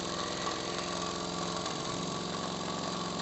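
A miniature 5 cc copy of a Stuart D10 steam engine in a live-steam model boat runs steadily, its fast, even chuffing rhythm droning continuously and close up, with no talk.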